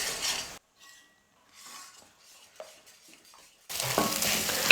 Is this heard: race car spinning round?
no